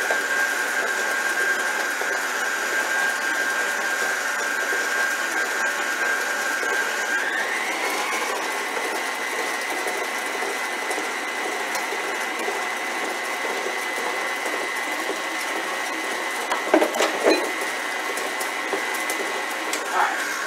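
An electric mixer whirs steadily through cranberry muffin batter with vanilla, flour, sugar and salt, its pitch shifting slightly partway through. A few knocks come near the end.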